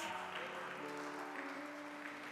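Church congregation claps steadily in applause, a soft, continuous wash of hands with faint music tones underneath, heard at a distance.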